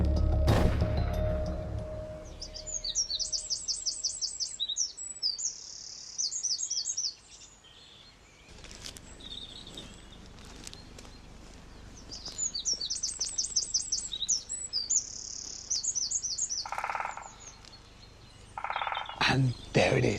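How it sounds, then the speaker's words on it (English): A great spotted woodpecker gives bursts of rapid, sharp, high chirping calls in clusters with pauses between them, after a heavy thump at the start, set against a quiet outdoor background. "It is a great spotted woodpecker."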